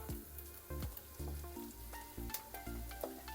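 Boiled chicken meat dropped into hot butter in a pan, sizzling and frying with a few sharp clattering stirs and knocks on top of the steady crackle.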